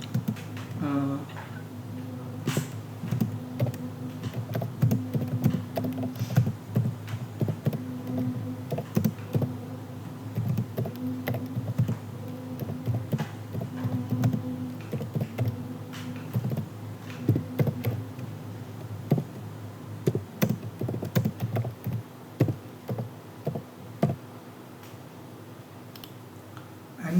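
A computer keyboard being typed on while writing code, with scattered clicking keystrokes in irregular bursts over a steady low hum, fairly close and continuing throughout.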